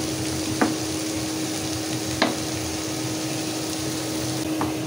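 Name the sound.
cumin frying in oil while stirred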